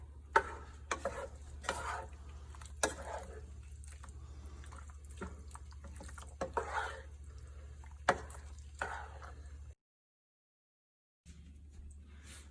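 Cooked pasta and broccoli are stirred together in a pot, giving soft wet squelches and scrapes at an uneven pace over a low steady hum, with a brief silent gap near the end.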